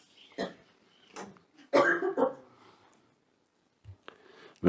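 A council member coughs during a municipal council meeting in a meeting room, a few short harsh bursts mixed with nearby talk, a louder cluster in the middle and a couple of faint clicks and thumps afterward.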